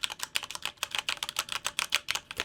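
Mechanical keyboard with Red switches, a budget model, typed on steadily up close, a quick run of soft, even clicks and clacks with no voices.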